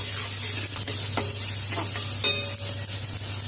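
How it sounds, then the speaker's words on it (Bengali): Ground cumin, chilli powder and fried peanuts are stirred in hot oil in a pan before jackfruit goes in, a close sizzle punctuated by several spatula scrapes and light clinks, without voices. "মশলা নাড়াচাড়া করে নিয়েছি"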